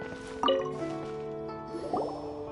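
Water drips and squishes in Genshin Impact, two distinct liquid plops with ringing, bubbly resonance, close and clear with no talk.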